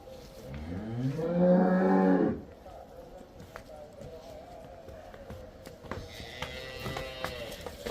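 A cow lets out one long, loud moo early on, followed by quieter farmyard noise and a few faint animal calls in the background.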